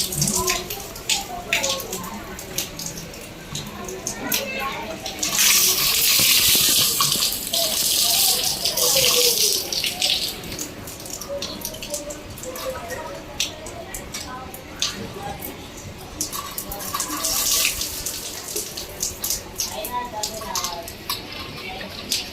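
Water splashing and pouring down during air conditioner servicing, a steady broadband rush that swells louder midway, with people talking over it throughout.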